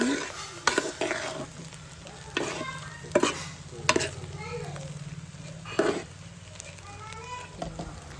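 Veg fried rice seasoned with salt and pepper being stirred in a pan, with repeated scraping knocks and a low sizzle; children's voices chatter faintly in the background.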